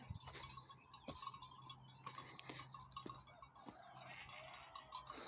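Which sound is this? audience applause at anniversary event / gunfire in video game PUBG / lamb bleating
lamb bleating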